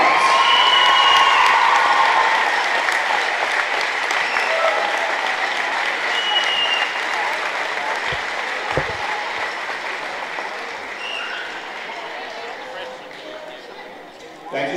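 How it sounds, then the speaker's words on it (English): Steady crowd applause for seniors at a high school game fills the space, loud at first and slowly tapering over about fifteen seconds. "let's give these fine seniors another round of applause"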